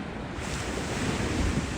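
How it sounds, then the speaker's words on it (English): Ocean waves break steadily on the shore at Coney Island in drizzly winter weather, a continuous loud wash of surf mixed with wind buffeting the microphone, with no voices. "Do you like the sound of the waves?"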